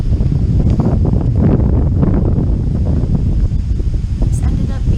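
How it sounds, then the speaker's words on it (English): Strong wind gusts buffet the microphone at a riverside campsite on Goose Island, a steady low roar with rustling throughout, loud and continuous for the whole stretch. "It's gonna be windy!"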